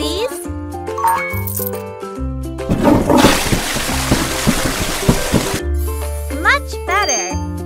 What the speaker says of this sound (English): Flush it, please.